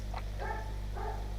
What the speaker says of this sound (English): It feels like the dog is sitting right next to me.